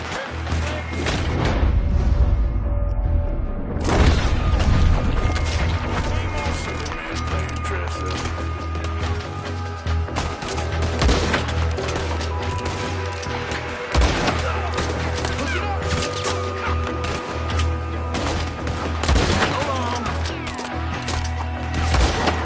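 Bursts of gunfire in Red Dead Redemption 2 crack loud and close, a dense stream of shots running nearly throughout, with a brief lull early on.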